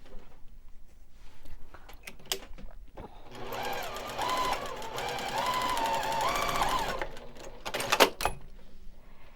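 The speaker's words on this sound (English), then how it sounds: "we're going to put these 2 pieces together with a 1/4 inch seam" Sewing machine stitching two quilt pieces together with a quarter-inch seam for a heart flag wall quilt, a steady mechanical whir running for several seconds between lighter handling clicks and taps.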